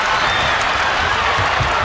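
A basketball game crowd applauds and cheers, a dense, steady roar of clapping and voices filling the whole moment at close, loud level.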